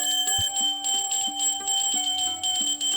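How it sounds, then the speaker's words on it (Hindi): Temple bells ring in a quick, irregular run of bright metallic strikes with shimmering overtones that overlap and sustain, close and fairly loud, with no voices. "मंदिर की घंटियां अपने आप बजने लगी।"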